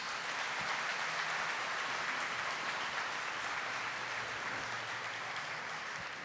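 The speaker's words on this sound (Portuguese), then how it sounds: "Monsenhor Jonas Abib, que merece a nossa salva de palmas." An audience at a Catholic talk on family gives a round of applause, a steady, even wash of clapping heard from a distance at a fairly low level.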